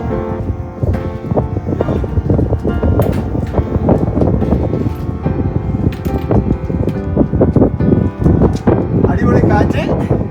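Strong mountain wind sweeps snow across the slopes, a loud, gusty roar buffeting the microphone throughout, with people talking over it.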